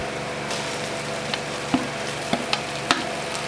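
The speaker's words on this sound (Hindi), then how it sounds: "हरी मिर्चों को अच्छे तरीके से फ्राई करेंगे" Green chillies fry in oil in a pan while besan pakoriyan are being made, a steady close sizzle with a few sharp crackles and pops scattered through it and no talking.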